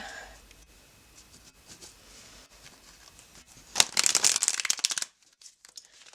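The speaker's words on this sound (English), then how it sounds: "Let's shuffle a while so it's all mixed in well." Tarot cards being shuffled, with soft quiet riffling that builds into a louder, dense burst of rapid papery flutters near the end, close to the mic.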